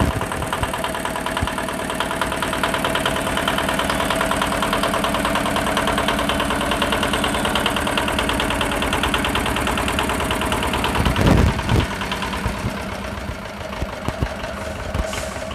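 A reconditioned diesel bus engine idles loudly and steadily nearby, with a rough, knocking mechanical throb and vibration. The rhythm briefly shifts and surges near the end, and no one speaks.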